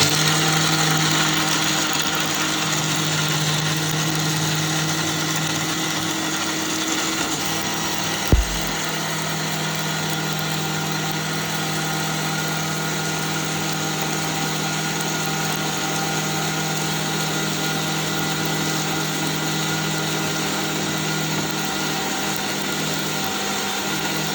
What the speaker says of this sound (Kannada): ಈಗ ಗ್ರೈಂಡಿಂಗ್ ಸ್ಟಾರ್ಟ್ ಮಾಡುವ. ನಾವು ಗ್ರೈಂಡ್ ಮಾಡ್ತೀನಿ, ಒಂದು 2 ನಿಮಿಷದಲ್ಲಿ ಆಗ್ತದೆ.